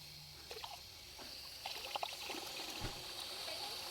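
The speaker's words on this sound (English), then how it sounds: "See water coming out." Water trickles and spatters out of a disconnected heater hose on a 2013 Toyota Sienna during a flush, a faint, steady flow with a few soft splashes and clunks, no voices.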